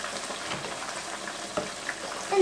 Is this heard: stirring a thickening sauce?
yes